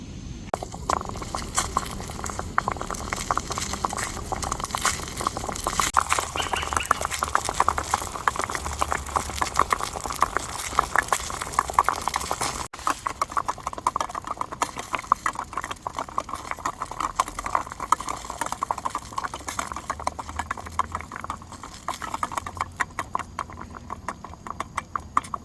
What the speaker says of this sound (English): The water's going to start boiling